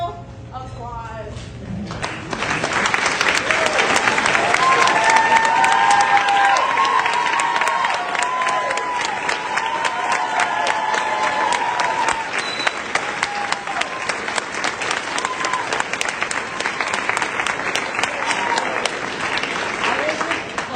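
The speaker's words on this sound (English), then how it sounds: "So if we could have them come up and give them one final applause." After a short spoken lead-in, an audience at a school musical production of Guys and Dolls breaks into sustained, loud applause for the seniors, with cheering and scattered shouts running on for about twenty seconds.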